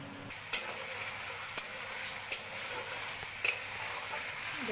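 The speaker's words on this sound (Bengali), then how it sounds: "মশলাটাকে ভালোভাবে কষিয়ে নেব।" Spice masala with coriander powder and Kashmiri red chilli powder being stirred and fried in a pan, a low steady sizzle broken by four sharp scrapes of the spoon, with no talk.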